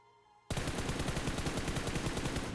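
Rapid automatic gunfire bursts out suddenly and stays loud and continuous in a battle royale video game firefight, in a dense rattle of shots.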